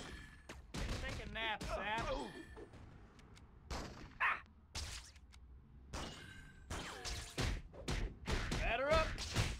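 Enemy gunfire in the Spider-Man 2 video game, sharp bursts and thuds scattered among game sound effects, with a voice talking over much of it.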